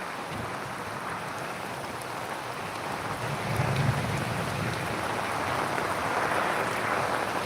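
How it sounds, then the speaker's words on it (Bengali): Heavy rain pouring down during a thunderstorm in Gazipur, a dense steady hiss of rain on surfaces with a low rumble of thunder swelling midway, no voices. "অনেক প্রচণ্ড পরিমাণে বৃষ্টি সহ বৃষ্টি হচ্ছে বিদ্যুৎ চমকাচ্ছে"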